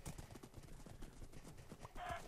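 Horse hooves clip-clop in the block-building game Minecraft, a quick, faint patter of steps running steadily under a soft game background.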